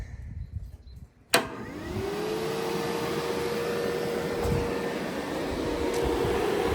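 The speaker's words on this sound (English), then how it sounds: "we should be able to turn this thing on, and that fan should click on" Mr Cool DIY mini-split air conditioner switching on in a shop: a sharp click, then the fan spins up with a rising whine and settles into a steady, fairly loud whooshing hum.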